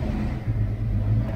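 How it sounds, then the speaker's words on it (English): A Ford Foxbody Mustang engine runs at a steady idle after a Megasquirt startup tune, giving a close, continuous low rumble with slight unevenness and no talk over it. "We already have a running car."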